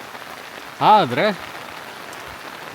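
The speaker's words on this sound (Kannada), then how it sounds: "ಹೊರಗೆ ಮಳೆ ಬರ್ತಾ ಇದೆ" Rain falling outside near Kavaledurga Fort, a soft, even patter that runs the whole time, with a brief spoken word over it.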